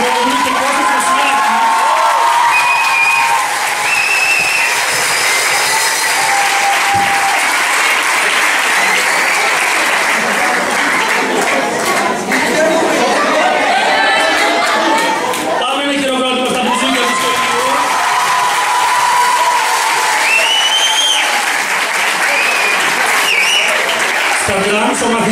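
Loud, sustained applause fills a school music-and-dance concert at a vocational high school on Samos for the bouzouki players, with cheers and scattered shouts rising over the clapping and voices mixed in throughout.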